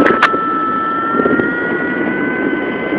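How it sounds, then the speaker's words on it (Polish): An aircraft engine drones steadily at a glider launch site, a sustained tonal whine over a broad rumble, with a short sharp click near the start. "silnik pracuje."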